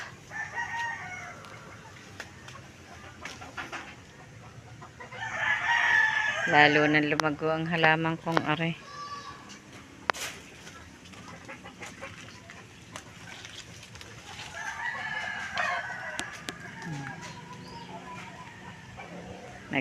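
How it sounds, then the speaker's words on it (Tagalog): A hen cackles loudly after laying an egg on a home terrace garden, with other chickens clucking faintly in the background while a person talks nearby. "May nangingitlog na manok."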